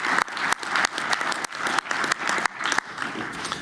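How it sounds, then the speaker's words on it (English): Steady applause from a large convention audience at a legal conference panel, sustained and moderately distant, filling the room without any speech over it. "yes, applaud yourselves"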